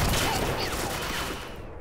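Burst of PKM machine gun fire in the ArmA 2 game, a loud dense volley that fades over about two seconds.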